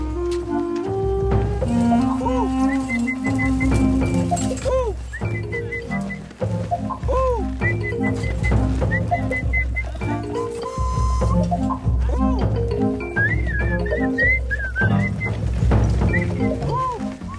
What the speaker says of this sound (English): just the camel herder's whistled song, which gives the camels a sense of security